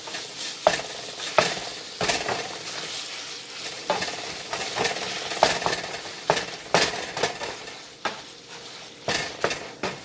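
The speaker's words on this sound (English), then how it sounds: "so I'm going to let this brown up." Beef sizzles steadily as it browns in a hot Tefal pan while a utensil scrapes and stirs, with repeated clacks against the pan throughout.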